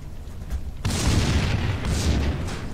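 A loud, sudden boom in the shooter video game Max Payne 2 gives way to a sustained, roaring rumble of explosions and fire that stays heavy to the end.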